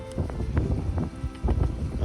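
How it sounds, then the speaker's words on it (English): Gusty wind blows outdoors at Ballyboley in Northern Ireland, a steady low rumble buffeting close to the microphone with brief louder gusts and no voices. "It's getting windy"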